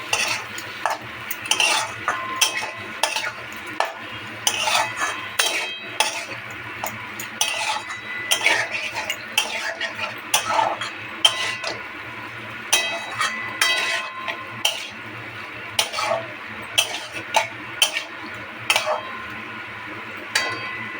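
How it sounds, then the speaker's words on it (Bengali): Cauliflower and potato pieces frying in a pan for a rohu fish curry, stirred with a utensil that scrapes and clinks against the metal in a steady repeating rhythm over a soft sizzle, close by, with no talking. "এইবার আমি ফুলকপি আর আলুগুলোকে ছেড়ে দিচ্ছি। ছেড়ে দিয়ে নেড়ে ছেড়ে দেবো"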